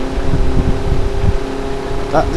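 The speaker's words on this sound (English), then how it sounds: "Listen to the little engine working so hard." A small car engine labours hard under load, a steady low drone with a faint tonal hum running throughout, while a voice talks over it.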